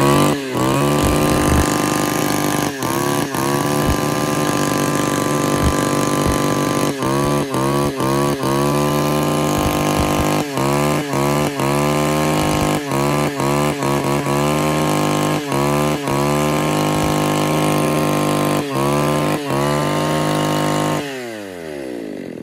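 A used Japanese chainsaw, one of the ECHO or Shindaiwa saws, runs loud and steady for over twenty seconds with repeated quick throttle blips, its note rising and falling, then cuts off near the end.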